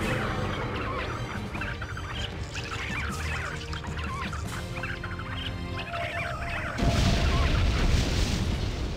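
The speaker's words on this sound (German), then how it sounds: "Haben wir hier schön mit einer Explosion geheilt." Explosion effect from the video game Septerra Core, a sudden loud broadband boom at about seven seconds rising over a dense bed of ongoing game music and effects.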